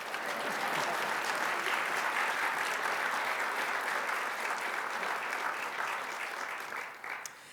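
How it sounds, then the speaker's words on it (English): Sustained applause from a large crowd at a New York City business breakfast speech, steady and loud for several seconds before tapering off slightly at the end. "You can clap for that."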